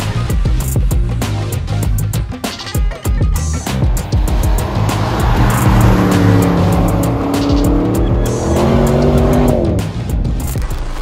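An Audi RS6 Performance accelerates hard, its engine loud and close, rising through gears with short tire squeals and a sustained roaring pull; no speech.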